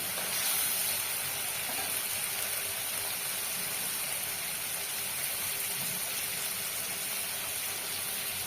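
Garlic paste frying in hot oil, giving a steady, dense hiss that holds evenly for the full stretch with no talking over it.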